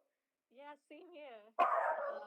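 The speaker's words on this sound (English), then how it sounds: "that's my dog." A single sharp, loud dog bark breaks in right after a person speaks briefly, then a noisy tail lingers from a close indoor source.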